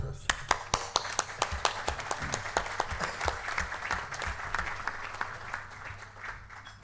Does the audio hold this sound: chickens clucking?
no